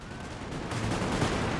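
Cannon fire in a Napoleon Total War battle: a dense, rumbling barrage of booming shots that swells louder partway through and keeps rolling without a break.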